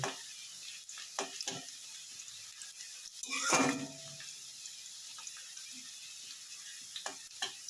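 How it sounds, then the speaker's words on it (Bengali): Onions frying lightly in a pan give a low, steady sizzle, broken by stirring scrapes and a louder burst of utensil clatter against the pan midway, with scattered clicks. "আমি বেশ হালকা করে পেঁয়াজটা লাল করে ভেজে নেব।"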